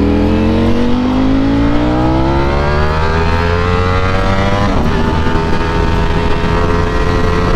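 Car engine revving hard through an Akrapovic exhaust, the loud droning roar climbing steadily in pitch for several seconds before a sharp shift, then continuing as a dense, raspy exhaust blare up close.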